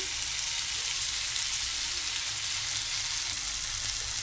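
Bitter gourd and potato frying in a pan with coriander powder and spices, giving a steady, dense, close sizzle that holds evenly throughout with no talking.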